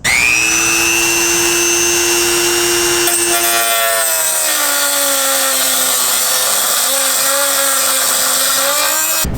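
A Dremel rotary tool cuts with a loud, steady high-pitched whine whose pitch sags and wavers partway through, grinding on alone for about nine seconds before cutting out abruptly at the end.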